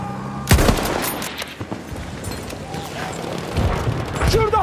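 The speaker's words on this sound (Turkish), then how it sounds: "Makinalı tüfek!" Machine gun fire in Battlefield 1, with a sharp close shot followed by rapid rattling bursts and scattered distant gunfire across a noisy battlefield, with shouting voices over it.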